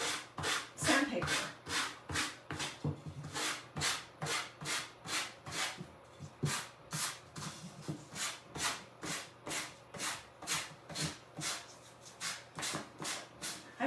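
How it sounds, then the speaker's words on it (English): Sandpaper rubbed back and forth over a decoupaged wooden stir stick, producing steady, rhythmic scratchy strokes at close range, with no one speaking. "it comes off pretty good just using the sandpaper."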